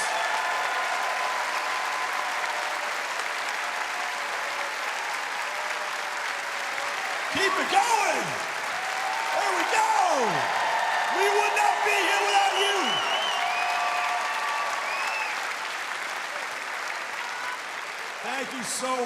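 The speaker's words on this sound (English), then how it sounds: "Give them a huge round of applause." A large arena crowd applauds alumni players of a UCLA women's basketball national championship celebration, steady loud clapping and cheering throughout with whoops rising midway and a voice over the PA.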